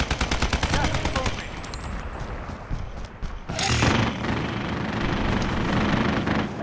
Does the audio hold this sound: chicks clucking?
no